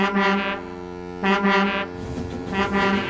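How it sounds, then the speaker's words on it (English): A deep, loud foghorn blares in long blasts, with a short pause between them and a final blast near the end, over a steady low rumble. "That foghorn is so loud it rattles my dome"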